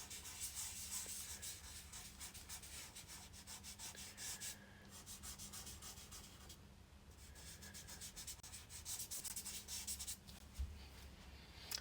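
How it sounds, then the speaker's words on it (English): Soft pastel rubbed into paper with steady, close, scratchy strokes, a continuous dry friction that briefly pauses twice. "Okay, so let's rub that in."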